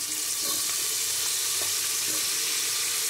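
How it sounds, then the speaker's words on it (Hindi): Diced medium potatoes, soaked in water, frying in a pan with vegetables for a quick Indian recipe, giving a steady, close sizzle throughout with faint stirring clatter and no talk. "आलू को भी अच्छे से थोड़ा सा भून लेंगे"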